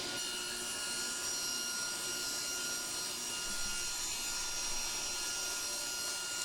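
A table saw cuts through a wood workpiece with a steady, loud whine and grinding hiss that holds evenly for the whole stretch, with no talking.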